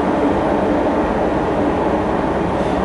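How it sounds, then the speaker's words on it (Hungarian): A remote-controlled shunting locomotive brakes to a halt, a steady loud rumbling rail noise holding throughout with no clear change, no voices over it. "meg is állt a mozdony azonnal"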